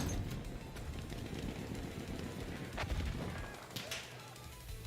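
Battlefield 1 gunfire rattles in dense, continuous bursts of rapid shots with a heavier crack or two in the middle, loud and busy throughout a chaotic battle.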